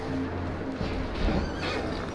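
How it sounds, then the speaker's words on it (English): A horse whinnies in the video game Red Dead Redemption 2, a short close neigh over low steady ambience, with faint hoof movement. "Bring that horse when you're done."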